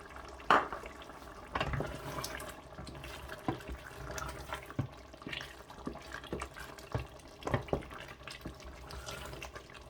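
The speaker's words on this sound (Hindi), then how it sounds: "अभी इस मौके पे ऑयल जो है हाफ़ कप वो मैं डाल दूँगा" Half a cup of oil is poured into a pot of nearly cooked teenday gosht (meat with tinda), giving soft, faint, intermittent liquid splashes and sizzles in a quiet kitchen.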